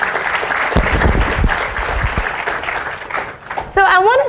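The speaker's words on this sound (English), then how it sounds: "So let's give our wonderful panel a round of applause this morning." Audience at a voting rights plenary session applauding a panel, sustained crowd clapping filling the room for several seconds, with a voice starting to speak near the end.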